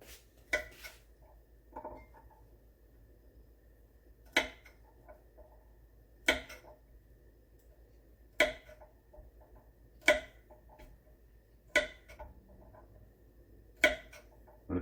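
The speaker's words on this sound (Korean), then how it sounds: "다진 마늘 하겠습니다." Garlic being minced with a knife on a cutting board during home cooking, sharp isolated chops landing every couple of seconds, close and clear over a quiet background.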